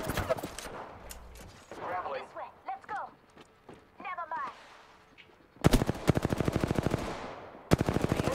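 Rapid automatic gunfire in the Apex Legends video game, loud bursts of rhythmic shots in the second half, with scattered earlier shots and game effects beneath a player talking.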